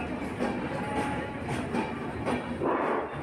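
Kanchanjunga Express passenger train running on rails, a steady loud rumble with faint rhythmic clatter throughout, no voices.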